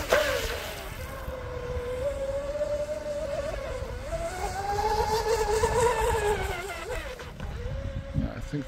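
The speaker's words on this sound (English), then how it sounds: "yeah, I think the boat runs better like this." A DIY twin mono radio-controlled speed boat runs on the water with a high, whining electric motor note that rises and falls in pitch as it speeds up, heard from a distance over wind noise.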